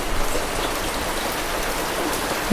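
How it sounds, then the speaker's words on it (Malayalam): Light, fine rain falls steadily as a soft, even hiss, fairly close and continuous, with no voices over it. "എന്താ നേർത്ത നേർത്ത മഴ പെയ്യ"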